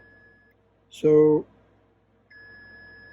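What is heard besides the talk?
ESR meter beeping while testing capacitor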